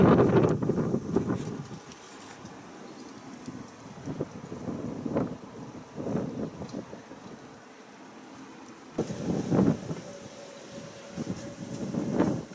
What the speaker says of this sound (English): It may be sunny, but it's windy.